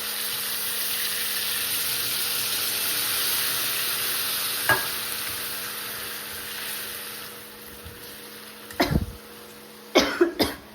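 Steady hot-oil sizzling of spices being tempered fills the background, close and continuous, with a few scraping clinks and knocks near the end; no speech.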